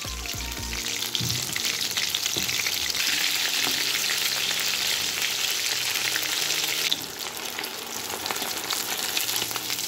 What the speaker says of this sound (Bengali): নিয়ে একে একে মাছগুলো গরম তেলে ছেড়ে দিলাম